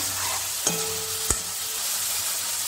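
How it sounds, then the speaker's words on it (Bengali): Masala sizzles steadily in oil in a pan while being sautéed before chickpeas go in, a dense close frying hiss with two brief clinks of a utensil against the pan. "এটা আমি কষতে থাকছি, তেলটা একটু ছাড়ুক, তখন ছোলাটা দেবো।"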